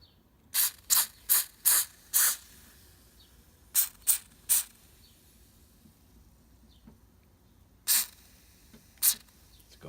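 Cleaner sprayed onto a Fasco Artic Air box fan blade in short hissing bursts. A quick run of five, a group of three, then two more spaced apart, with quiet gaps between.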